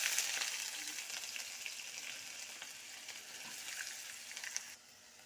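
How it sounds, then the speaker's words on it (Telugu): Onions dropped into hot oil fry with a bright, hissing crackle for egg curry; the sizzle is steady and close, then drops away abruptly near the end. "నూనె కాగిపోయిందండి, ఉల్లిపాయలు వేసేద్దాం."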